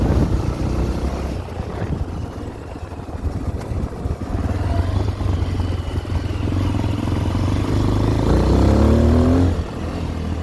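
A Tekken 250 R-line motorcycle engine accelerating softly, a loud steady drone close by that rises gently in pitch toward the end before easing off.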